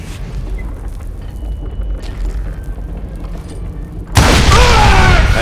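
A gunpowder and dynamite explosion in the Call of Juarez Gunslinger video game hits as a sudden, loud single boom after a quiet stretch, then roars on with rumbling debris to the end.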